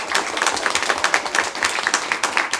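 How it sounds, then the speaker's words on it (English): Audience applause at a council meeting, a room of hands clapping in quick, uneven bursts at moderate distance, sustained without pause for a couple of seconds. "So can we get a big round of applause to Ms."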